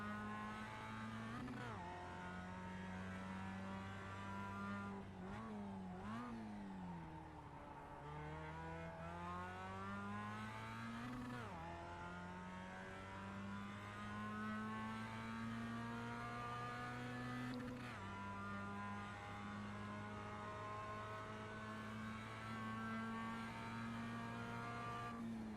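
A race car in the iRacing sim game drones at high revs through a corkscrew-type turn, the engine pitch dipping and climbing with gear changes and braking, steady and close with no talk.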